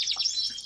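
Lizard canaries make a brief cluster of thin, high chirps and tweets in a bird room during the moult. The calls are faint and quick, with no one talking.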